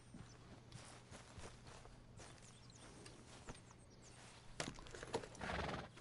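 A horse in the video game Red Dead Redemption 2 whinnies and snorts over a background hum, with soft clip-clop hoof steps and a louder snort near the end.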